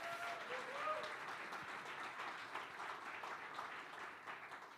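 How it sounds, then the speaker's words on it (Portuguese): Church audience at a Portuguese congregation applauding a mother in the crowd, steady dense clapping throughout, moderately distant and fairly quiet. "uma salva de palmas aí para a minha mãe que está aqui"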